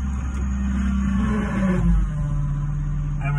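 A farm tractor engine runs steadily and close by, low on hydraulic oil, with a deep continuous drone and a slight swell in the middle; faint voices sit beneath it.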